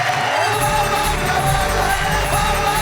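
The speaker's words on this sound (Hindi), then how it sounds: "जोरदार ताली।" Loud, dense crowd noise from a poetry show audience, with cheering and shouts sustained throughout, a steady roar of applause.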